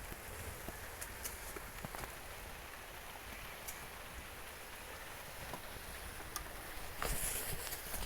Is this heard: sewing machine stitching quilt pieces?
no